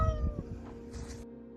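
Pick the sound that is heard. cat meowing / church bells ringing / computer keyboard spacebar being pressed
cat meowing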